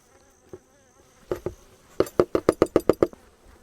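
Honeybees in an opened hive, with the hive being taken apart, give a close burst of rapid, evenly spaced buzzy pulses after a few scattered knocks.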